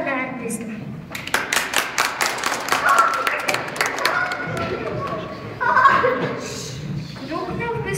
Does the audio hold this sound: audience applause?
yes